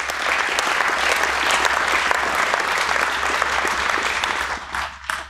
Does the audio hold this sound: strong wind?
no